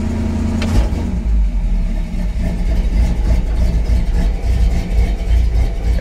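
A warmed-up car engine idling barely, giving a steady low rumble that runs unbroken and fairly loud for about six seconds with no voices.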